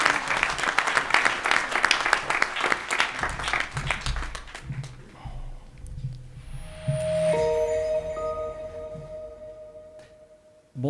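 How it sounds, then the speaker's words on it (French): Audience applause at a mayor's New Year address in Valgelon-La Rochette, a dense burst of clapping that fades after several seconds into a quieter room with faint hum and shuffling. "je vous demande de les applaudir."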